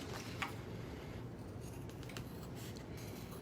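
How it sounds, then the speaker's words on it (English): Scissors trimming the fabric seam allowance of a sewn bag down to an eighth of an inch, a few soft, quick snips close by over steady low background hum. "you're gonna trim the seam allowance down to 1/8 of an inch around the, around the bag"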